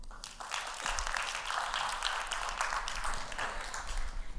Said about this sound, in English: Please give him a warm applause and enjoy the lecture.